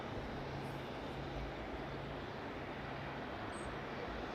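An aircraft departing East Midlands airport in the evening makes a steady, distant broadband engine roar that holds at an even level throughout, with no voices.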